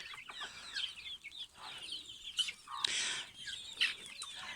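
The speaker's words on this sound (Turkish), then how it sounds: "Bunlar kışın makinede çıkarttığımız civcivlerimiz büyüme devam ediyorlar." Growing young chickens hatched in an incubator over winter cluck and cheep in a farmyard, a busy overlapping chorus of short calls close by with occasional wing flaps.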